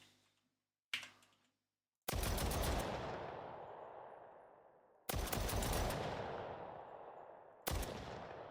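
Automatic weapon fire in an Unreal Engine 5 zombies video game: a short single shot, then three long bursts of rapid rattling gunfire, loud and close, each trailing off into echo, with no voices.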